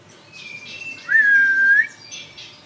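A small songbird kept for song training gives a clear, near whistled note, a single sustained rising tone with faint chirps and twittering around it.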